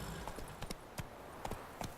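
Horse galloping in The Witcher 3 video game: a rhythmic run of hoof clip-clops, several sharp beats spaced unevenly over two seconds, fairly near against a faint steady background.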